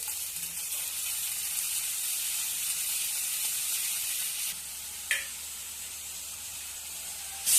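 Fenugreek leaves and garlic sizzle in hot oil for a methi and spring onion paratha dish, a steady close hiss that briefly drops then flares with a sharp crackle near the end, with no talking.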